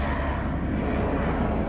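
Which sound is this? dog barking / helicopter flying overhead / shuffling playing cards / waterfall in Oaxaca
helicopter flying overhead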